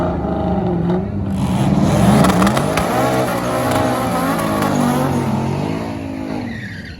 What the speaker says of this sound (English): The little boost controller from Turbo Smart messed up, so it's running on full power, 440 horsepower.